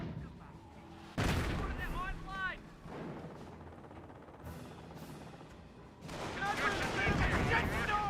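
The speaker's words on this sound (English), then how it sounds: "Mortar ran a little bit short." Mortar blasts and rifle gunfire in the World War II strategy game Company of Heroes boom and crackle, with two loud explosive bursts and scattered shots. A voice talks over the battle.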